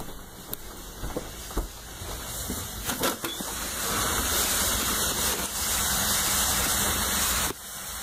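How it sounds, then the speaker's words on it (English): Water gushing and hissing in a flooded basement, a broad steady rush like a small waterfall that builds and holds loudly, with a few sharp knocks early on. "Sounds like a waterfall in your basement."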